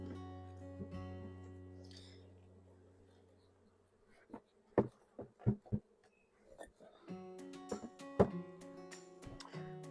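Honeybees buzzing at a backyard beehive, a low steady hum early on that fades, followed by scattered clicks and knocks of hive handling while bees drone faintly in the background.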